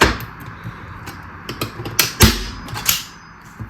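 A hand staple gun fires nails into material, giving a string of sharp, irregular snapping clacks up close, with one especially loud shot midway.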